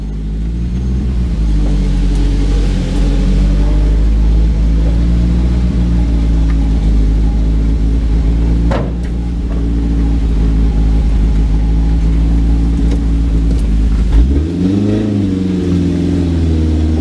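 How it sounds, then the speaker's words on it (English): A cheap Chinese truck engine revs loudly and steadily at close range, its pitch rising and falling in sustained waves, with a brief dip near the middle and a sharp drop then climb toward the end. "Definitely revs better than it did before"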